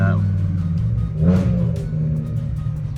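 BMW E60 M5 with the S85 V10 and straight pipe exhaust, a deep idling-like rumble that swells into a brief rev blip of a downshift, then settles back to a steady growl.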